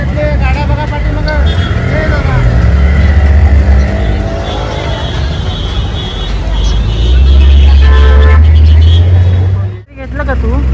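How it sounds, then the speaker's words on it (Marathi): Road traffic rumbling past behind Shrimant Dagdusheth Halwai Ganpati temple, engines droning under a crowd's loud babble and nearby talking. "रस्त्यातले गाड्या बघा पाठीमागं."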